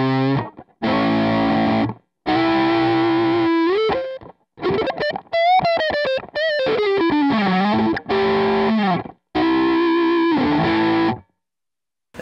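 An electric guitar played through the MXR Dynacomp compressor model on a DigiTech RP360 rings out in sustained, evenly squeezed notes and bent phrases, separated by short silences, with a smooth, distorted, chorused tone.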